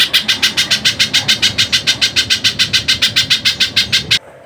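A sogon bird sings a fast, steady series of loud, shrill notes, about six per second, close by and without pause until an abrupt stop near the end.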